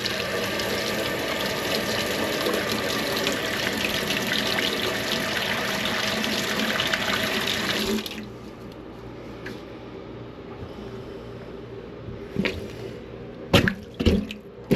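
Water pours steadily from a kitchen faucet into a clogged sink for several seconds, then cuts off, leaving quiet gurgles, a few drips and sharp clunks near the sink.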